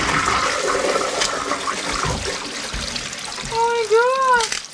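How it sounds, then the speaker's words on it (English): A toilet flushes with a rushing, gurgling surge of water that rises toward the end, while voices talk faintly over the running water. "Maybe just give it a flush first and see if it works."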